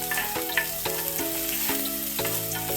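Chopped onions browning in a pan for a homemade tomato chutney give off a steady, close sizzle that runs without a break.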